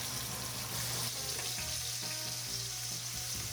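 Potatoes frying in a pan give a dense, steady sizzle and crackle, close and continuous, with faint stirring bumps.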